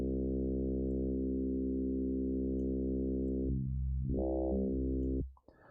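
Sine wave from an FM synthesizer in Ableton Live's Operator, a steady pure tone with rich harmonic layers that shift and bend partway through before cutting off abruptly near the end.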